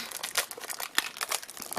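A colossal plastic sheet like sellotape crinkles and crackles in irregular bursts, close and fairly quiet, with no voices.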